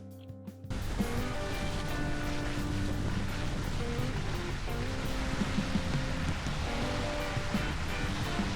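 Rain falls steadily outdoors in the Valles Caldera preserve during a storm, a dense, continuous hiss that starts abruptly and stays loud with no talk over it.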